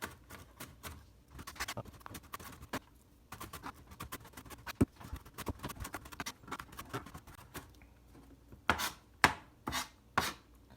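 A knife minces vegetables into tiny pieces on a cutting board, making quick, close, rhythmic chopping taps that are soft at first and grow sharper and louder toward the end.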